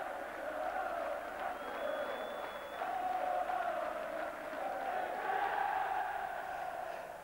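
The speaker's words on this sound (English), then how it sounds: "the Gold Cup was presented to Mike Watkinson, the Lancashire skipper, up on the balcony in front of many admiring and cheering fans" A distant crowd of cricket fans cheers and murmurs continuously at Lord's after the 1995 Benson and Hedges Cup final between Lancashire and Kent, a steady, faint wash of voices.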